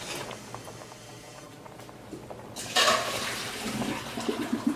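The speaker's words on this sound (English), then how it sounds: "I'm going to go ahead and transfer this to an ice bath" Blanched asparagus tipped into an ice water bath in a kitchen gives a quiet background rustle, then a sudden burst of splashing and sloshing water with clinking and dripping that trails off.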